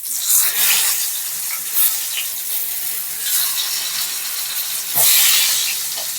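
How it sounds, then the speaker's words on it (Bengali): Steady, loud sizzling of eggplant slices frying in a pan, a broad hiss that swells and eases with occasional stirring scrapes, no talking. "এরপরে আমি এই দিকটাও ভাজবো হালকা করতে ওই জন্য বেগুনটা আমি একটু উল্টি নিচ্ছি"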